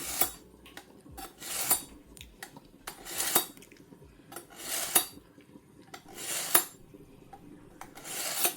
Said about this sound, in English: Just sharpen up my knife quick there now